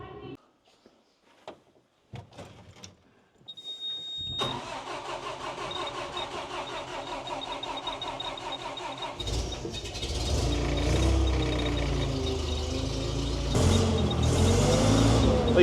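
1941 Caterpillar engine with a new solenoid: a few clicks and clanks, then the starter cranks and the engine catches, running louder and rougher near the end, with voices talking over it.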